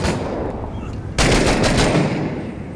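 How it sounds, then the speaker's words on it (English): Video-game gunfire aimed through a window, a rapid automatic burst that starts abruptly partway in over a steady noisy background and stays loud and close to the end. "Shooting through the window."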